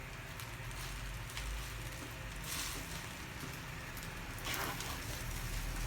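Steady rain falls and patters on surfaces throughout, a continuous wash of drops with a few brief louder splashes, no voices present.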